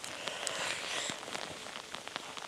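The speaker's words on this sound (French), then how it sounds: "oh super, un bon grain nivernais, bon bah tant pis, je vais finir de tourner la vidéo sous la pluie" Rain falling outdoors during a macro photography shoot in the Nièvre region of France, a steady soft hiss with scattered close drips and patters on nearby surfaces.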